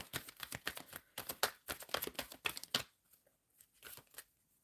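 Tarot cards being shuffled: a rapid run of crisp papery flicks and riffles, then a pause and a few softer card snaps, close and quiet.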